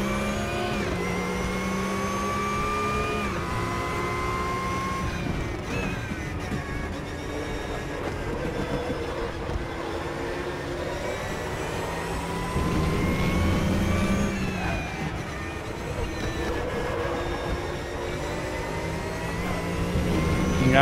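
Engine of a Porsche 911 GT3 Cup racing car in the RaceRoom sim at the Red Bull Ring, droning steadily with rising and falling revs through gear changes and corners, loud and continuous with no talk.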